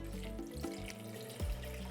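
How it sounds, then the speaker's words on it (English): Water pours steadily into a pot holding dry kelp for making dashi, a close, continuous running and filling sound with no talking. "We add some water."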